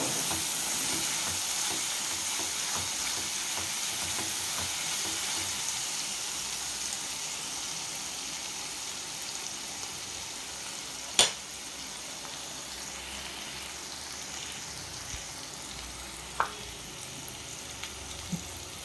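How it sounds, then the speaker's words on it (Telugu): Ginger garlic paste frying in a pan for gongura prawn curry, a steady close sizzle that holds evenly throughout with a couple of faint clicks and taps, no talk. "పచ్చివాసన పోయిన దాకా అల్లం వెల్లిపాయ పేస్ట్ కూడా వేయించుకోవాలన్నమాట."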